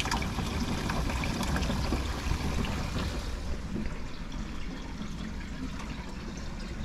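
Water draining out of a 90-gallon mixed reef saltwater aquarium during a water change, a steady turbulent trickling rush that holds constant and close throughout, easing slightly toward the end.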